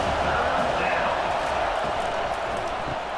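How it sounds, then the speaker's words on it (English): Stadium crowd roars in an EA Sports College Football game, Minnesota against Penn State, as a constant loud wash of noise under a commentator's voice. "this crowd trying to help keep them there"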